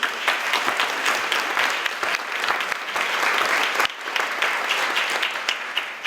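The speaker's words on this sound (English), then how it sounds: "Can we give them a round of applause?" An audience applauds honorees at a recognition event, a steady, dense round of clapping from a crowd that carries on without pause, with no voices standing out.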